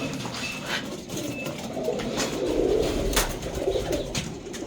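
Roller pigeons coo nearby in low, murmuring calls over a steady background hum, with no talking.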